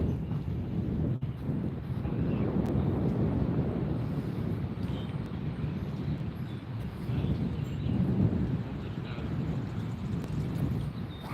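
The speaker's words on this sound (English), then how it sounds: "Hopefully the wind isn't too bad. It just picked up a decent bit." Gusty outdoor wind buffets the microphone at a slingshot session, a loud rumbling roar that swells and fades steadily throughout, with no talking.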